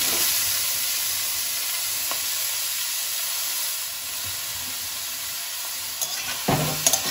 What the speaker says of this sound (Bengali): গাজরটাকে এই ঘিয়ের মধ্যে একটু হালকা নেড়ে নেব। দেখুন আমি গ্রেট করা গাজরগুলো দিয়ে দিচ্ছি